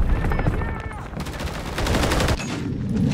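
Rapid gunfire bursts from the Modern Warfare 3 video game, a dense continuous rattle of shots with a brief lull midway, loud and close, over game ambience.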